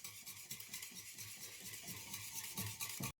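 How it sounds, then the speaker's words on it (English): A whisk beats cream and yogurt together in a bowl with steady, rapid scraping and tapping strokes, fairly quiet and close, ending with a sharp clink. "Whisk this to make it really nice and smooth."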